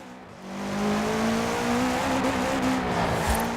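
A 2013 Subaru BRZ race build in Forza Horizon 4 swings into oversteer, its engine revving hard under a sustained, rising tire squeal that holds loud and close for a few seconds.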